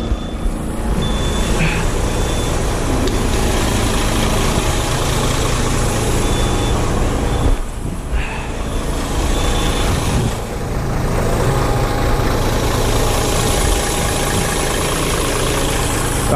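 A DAF truck's diesel engine runs loud and close with the accelerator pressed, a dense steady drone that dips briefly twice before settling back.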